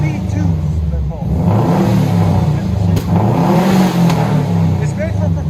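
A 2006 Subaru Outback XT fitted with a Flowmaster Super HP2 exhaust revs repeatedly at close range, the engine rising and falling in strong surges while a person talks over it.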